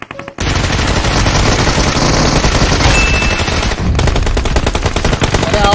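Sustained automatic gunfire from a squad gunfight in the mobile battle-royale game BGMI, loud and dense, rattling almost without pause after a brief quiet start, with no talk over it.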